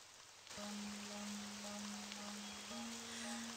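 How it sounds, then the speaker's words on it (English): Steady rain falls in the Forest of Drizzling Rain video game, a continuous soft hiss of drops with a low sustained tone entering after a moment and a faint repeating chime above it. "It looks like the rain will continue this evening"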